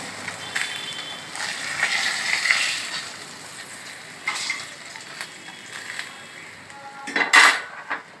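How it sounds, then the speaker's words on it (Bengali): Fried fish being lifted out of a pan into a bowl: scattered metal-on-metal clinks and scrapes of a utensil against cookware over a faint background sizzle, with a sharper clatter near the end. "মাছগুলো হয়ে গেছে আমি মাছগুলো তুলে নিচ্ছি একটা বাটির মতো"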